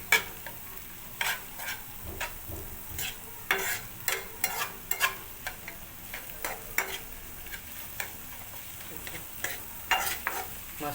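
A spoon stirs onion and tomato gravy for octopus kheema cooked Koli style in a pan, giving repeated scraping strokes at an irregular rhythm over a soft steady sizzle, close and moderately loud with no talking.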